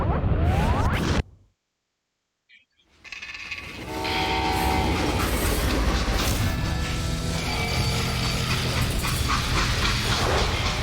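A train runs close by in the Western game Call of Juarez Gunslinger, with a loud horn blast before a brief silence, then a rumbling, rattling run of wheels and cars with another horn sounding over the steady noise.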